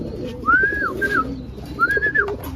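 A young racing pigeon coos close by in two clear, rising-and-falling calls separated by a short pause, with light background noise.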